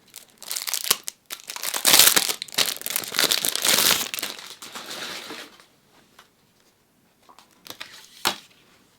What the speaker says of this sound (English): let me just show you the texture of this paper